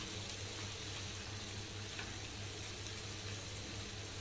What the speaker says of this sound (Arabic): هنزل بالبصل ياخد برضو تشويحه معاه